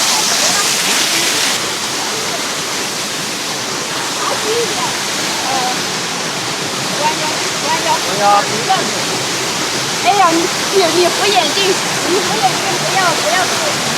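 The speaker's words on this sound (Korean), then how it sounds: "여기 뒤에 폭포가 흘러내리고 있어요." A waterfall cascades down behind a crowded hiking trail at Tiger Leaping Gorge, its steady broadband roar filling the scene with little change in level throughout.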